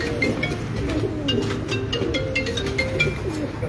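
Low, throaty cooing from a Lal Pari pigeon kept on a breeder's rooftop loft, several rolling coos in quick succession, close and steady with light chirps among them.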